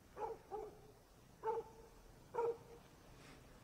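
Dogs bark outside at night, four short barks spaced irregularly in a quiet setting, faint and somewhat distant.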